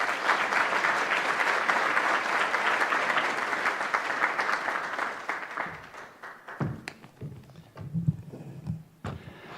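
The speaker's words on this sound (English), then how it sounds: "with your applause, please welcome and greet Senior Vice Foreign Minister Csis." An audience applauds to welcome a speaker at a policy forum, with dense sustained clapping for about six seconds that thins out into a few scattered claps and brief stray noises at the end.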